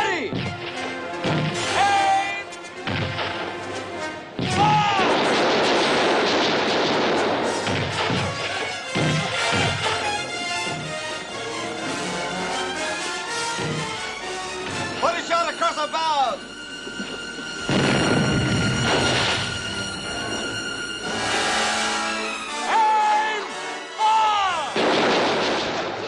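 Gunfire in an audio drama fires at a fleeing man, with repeated loud shots and crashes between shouted voices and other clatter.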